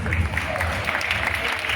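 A college audience at Rajagiri Engineering College claps in a dense, steady burst of applause that fills the whole short stretch with a close, even roar of hands.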